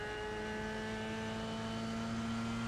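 An F3 race car engine in iRacing held at full throttle down a hill at Road America, a steady loud high-pitched drone with constant harmonics and no letup.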